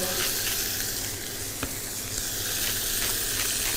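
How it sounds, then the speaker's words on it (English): Steady broadband sizzling and spitting of meat frying in oil on a hot cast iron grill pan, continuous and close, with a brief sharp crackle partway through. "let it sizzle"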